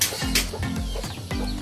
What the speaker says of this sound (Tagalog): Mga bagong chicks.